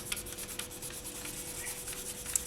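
A tool burnishes soft polymer clay for faux geode earrings. Quiet, close rubbing strokes repeat in a steady rhythm against a low background hum, with no voices.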